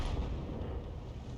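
An M53/M55 self-propelled artillery gun fires in a tank video game, a deep, heavy boom that rumbles steadily through the whole short stretch with no voices over it.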